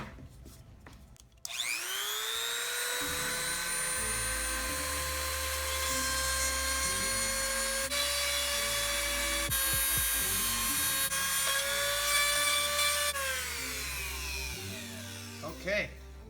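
Rotary tool with a diamond bit cutting into fiberglass circuit board inside an NES Max controller, a loud steady high-pitched whine that holds for about twelve seconds, its pitch shifting slightly under load before spinning down.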